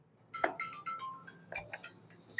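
Phone ringtone chiming in a bright melodic run of short electronic tones that rise and fall over a couple of seconds, fairly clear against a quiet room with no one speaking.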